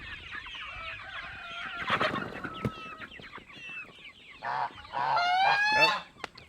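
Several ducks honking and quacking nearby in uneven bursts while being fed watermelon and zucchini, with a louder stretch of rapid calls near the end.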